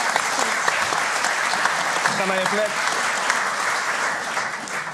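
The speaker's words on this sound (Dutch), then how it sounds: "Geef een applaus." Studio audience applause on a late-night Dutch TV show, steady dense clapping throughout, with a host's voice briefly speaking over it midway.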